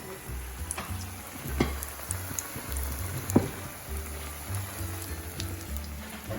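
Hot water cornbread frying in oil gives a steady low sizzle and bubbling with faint crackles and a couple of sharper pops, close and fairly quiet, with no talking.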